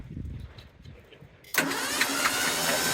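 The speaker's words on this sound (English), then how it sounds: "the rig fired right up on the first try" A Ford Bronco's engine, with spark plugs pulled and oil blown from the cylinders after a rollover, cranks briefly and then catches, settling into a loud, steady idle.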